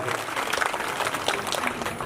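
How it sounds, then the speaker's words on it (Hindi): Audience applause at a school annual function, a steady wash of many hands clapping together at moderate level, dense and continuous throughout without breaks. "माताओं और बहनों के लिए जोरदार मंच की ओर से तालियां होनी चाहिए, स्वागत होना चाहिए"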